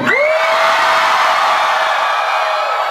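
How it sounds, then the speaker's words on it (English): A concert crowd in Tainan roars and screams continuously, a dense, loud wall of cheering that stays steady throughout, with a brief whoop at the very start. "Everybody scream."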